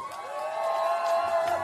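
A political rally audience in Jeonju cheers and whoops, a sustained swell of many voices at moderate distance, lasting without pause.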